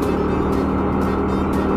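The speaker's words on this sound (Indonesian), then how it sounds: "Bentar, ada truk dulu yang mau masuk ya." A truck turns in from the road in Lima Puluh Kota, West Sumatra, its heavy engine rumbling steadily and close by, with no voices.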